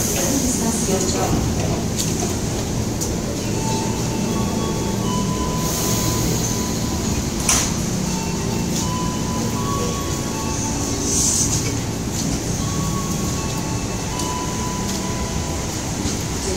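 A KRL commuter train arrives at Cawang station in Jakarta: loud rumbling wheels and brake squeals fill the platform while a public-address voice speaks over the noise.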